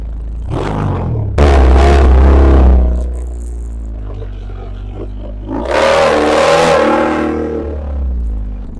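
A loud, deep engine roar, likened to a Dodge Hellcat's, swells in long revving bursts, with a short rising rev early on and a sustained full-throttle pull late, close to the listener.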